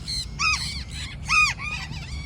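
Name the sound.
cockatoo squawking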